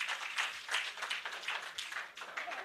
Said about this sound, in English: you need to give him another round of applause